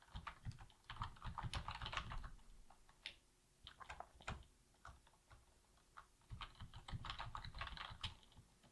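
Close, soft typing on a computer keyboard in a gentle roleplay setting, with steady bursts of clicking keys broken by short pauses, and no talking.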